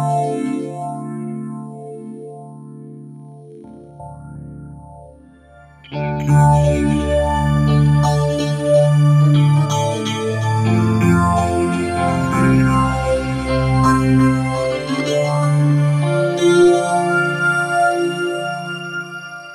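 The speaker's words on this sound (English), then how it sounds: "just have a listen to what this sound effects delay does" A BOSS 500 series guitar pedal set to a sound-effects delay turns guitar notes into a lush, repeating wash, starting sparse and swelling into a thick, sustained layered texture that lingers throughout, with no talking.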